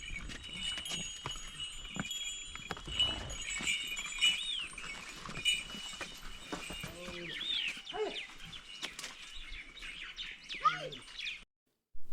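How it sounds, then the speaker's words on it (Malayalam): Birds chirp and tweet in a Himalayan village amid farm plots and flowers, with scattered calls at varied distances. A fowl-like cluck or crow is mixed in, along with faint background murmur. "കൃഷിയിടങ്ങളും പൂക്കളും പക്ഷികളുടെ കലകല ശബ്ദവും"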